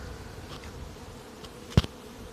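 Honey bees work the entrance of a hive at a migratory apiary on a coriander field, a steady low buzz of many insects with one brief loud tap or knock near the end.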